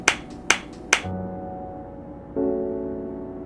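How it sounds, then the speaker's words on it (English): Three sharp, evenly spaced claps sound in the visual novel DDLC Everlasting, each a crisp slap, followed by soft sustained game tones in the background. "Did he just make a clapping noise?"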